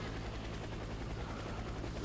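A helicopter in an online video game drones with a steady, loud rotor roar that stays constant throughout, close and alone with no talk over it.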